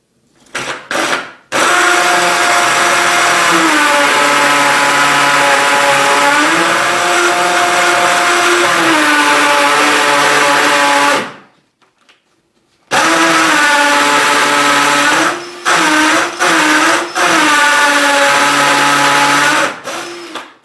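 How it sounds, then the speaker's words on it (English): A loud, steady power drill whines and grinds into a stone wall of an old Irish farmhouse for long stretches, stopping briefly and restarting with a few short bursts. "The trials of trying to get drilled into stone wall."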